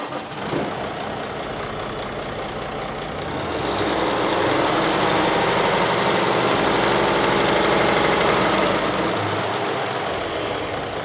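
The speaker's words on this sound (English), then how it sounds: "Now we're gonna go around to start the engine." A diesel truck engine with a turbocharger starts and settles into a steady idle, loud and close, with a rising turbo whine that holds and then fades.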